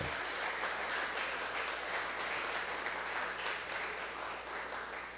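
Soft, even applause from a church congregation at an ALEBE meeting, a steady low wash of many hands clapping, fairly distant and continuing for several seconds without speech.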